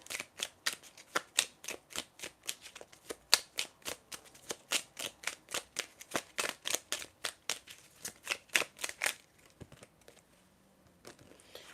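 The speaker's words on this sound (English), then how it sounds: "I'm gonna shuffle now with this deck to see what comes up for you" A deck of tarot cards is shuffled by hand, a long steady run of crisp riffling snaps in quick regular rhythm, close and fairly soft, trailing off into quiet at the end.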